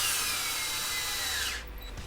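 A power driver whirs steadily as it drives screws up through the bottom of a DBXL-E 2.0 RC car chassis to hold the front differential, running loud and close for about a second and a half before cutting off.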